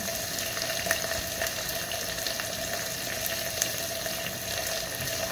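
Dilis, small dried anchovies, fry in a pan with a steady, even sizzle and faint crackles, a constant moderate hiss with no talk.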